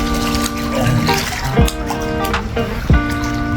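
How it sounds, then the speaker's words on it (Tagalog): Dead Sea water sloshing and splashing in small waves around a swimmer, close and continuous with a few louder splashes, under a steady background hum. "Ngayon may alon siya."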